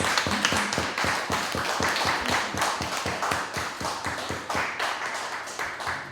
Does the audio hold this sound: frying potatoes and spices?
no